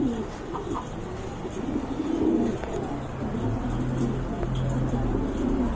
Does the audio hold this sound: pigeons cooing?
yes